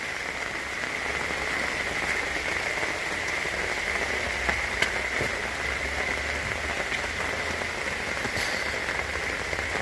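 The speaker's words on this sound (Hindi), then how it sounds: "बारिश में" Steady rain falls on surfaces outdoors in a paddy field area, a continuous dense patter with occasional louder drops close by, no voices.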